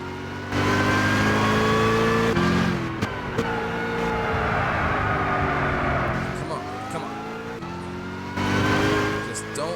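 A Gran Turismo 6 car's engine racing on a touge mountain-road build, a loud, steady droning roar that rises and falls with revving as the car brakes early for corners, with a voice talking over it.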